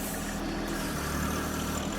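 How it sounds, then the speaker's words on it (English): A backhoe engine runs steadily nearby at a yard drainage dig, a constant low rumbling drone with no talking over it. "Backhoe."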